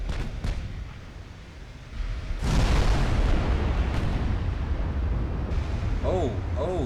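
In the Ultimate Admiral Dreadnoughts naval battle game, 6-inch and larger battleship guns fire with heavy, booming reports; a loud salvo erupts partway through and rolls on as a sustained rumble, with a voice talking underneath.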